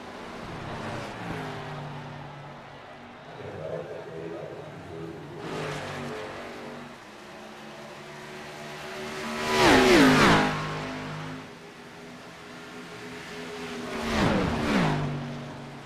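Race cars lap an oval track, engines droning in the distance with several loud pass-bys swelling and fading, the loudest around ten and fourteen seconds.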